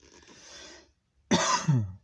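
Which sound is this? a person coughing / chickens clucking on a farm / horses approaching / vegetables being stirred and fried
a person coughing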